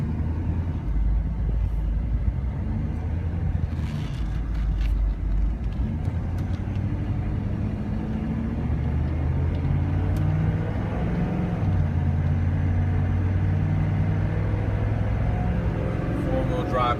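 Steady low rumble of a diesel GMC Suburban running while driving, a constant road and engine drone throughout, with someone talking over it.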